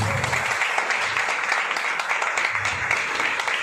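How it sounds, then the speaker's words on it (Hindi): Audience applause at a Hindi-language gathering, a dense continuous patter of many hands clapping at once, even and sustained, with faint voices beneath. "इन सब के लिए आप एक बार जोर से तालियां बजाएं"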